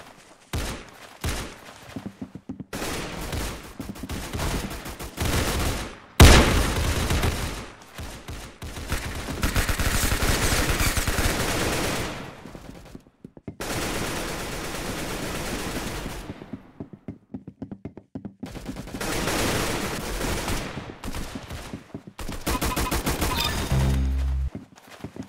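Gunfire in the Roblox game, a knife-and-gun shooter: dense bursts of rapid automatic shots and single cracks recur across the clip, loud and close, with brief gaps between volleys.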